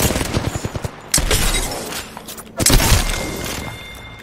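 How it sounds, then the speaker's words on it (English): Enemy gunfire in the shooter game Apex Legends, with rapid bursts of shots and heavy booming impacts in several loud clusters, up close and with no talk over it. "The enemies are shooting."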